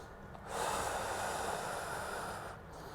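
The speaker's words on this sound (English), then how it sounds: "I'm going to go breath in, and I'm going to breathe out" Steady, close breathing with a snort-like rush of air through the nose, sustained for about two seconds at fairly low level, made during a thoracic spine mobility drill with a stability ball.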